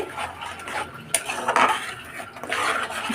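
Mixed vegetables with poppy-seed paste being stirred in a pot, giving close, irregular clinks and scrapes of a spoon against the metal over a short stretch, with no voices.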